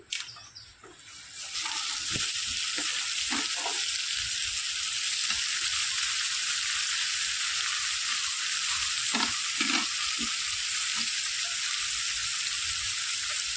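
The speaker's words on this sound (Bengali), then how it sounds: "এবার সেদ্ধ করে রাখা আলু আর কড়াইশুঁটিটা দিয়ে দিচ্ছি" Boiled new potatoes and peas drop into a hot pan with spices and fry in a strong continuous sizzle, punctuated by scraping stirs and light knocks of the spatula against the pan.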